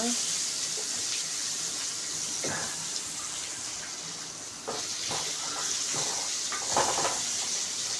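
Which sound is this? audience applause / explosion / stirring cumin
stirring cumin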